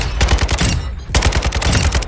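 An RPK light machine gun fires in a video game, loud rapid bursts of shots in two strings separated by a short pause, each round crisp and punchy at close range.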